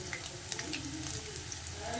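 Nigella seeds, cumin and asafoetida sizzling in hot oil in an Indian kitchen, a faint steady crackle with tiny pops scattered through the short stretch.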